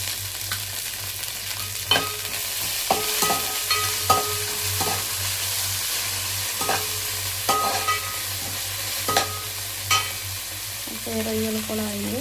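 Onions frying with ginger-garlic paste and mint for prawn biryani, a steady close sizzle with repeated metallic scrapes and taps of a spoon stirring against the pan, alone without talk.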